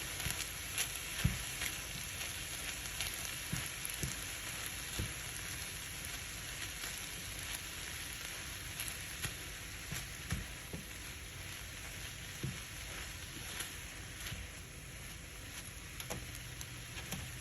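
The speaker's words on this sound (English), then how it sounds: "I'm going to finish mixing this up" Quesadilla filling sizzles steadily in a frying pan for a home family dinner, with a continuous close frying hiss and a few faint scrapes of stirring scattered throughout, no talking.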